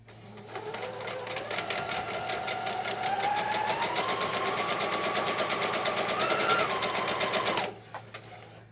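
A sewing machine stitches two quilt block fabric pieces together in one steady, continuous run of about seven seconds, its motor whirring at close range and rising slightly in pitch before stopping abruptly.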